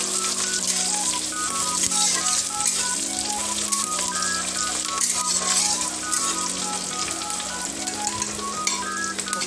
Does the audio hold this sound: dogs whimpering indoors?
no